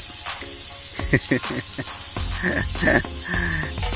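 Butter sizzling and hissing in a hot pan as it is stirred and spread around for a chicken steak, a steady crackling fry with scraping stir sounds under someone talking.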